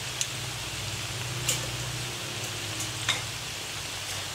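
Floured slices of banana stem frying in hot oil give a steady, soft sizzle and crackle, with a few brief sharper ticks and pops standing out over the constant bubbling hiss.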